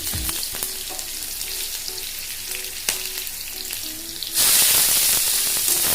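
Panch phoron, ginger, garlic and cinnamon crackling in hot oil, a steady close sizzle with small pops that jumps to a louder, hissing burst near the end.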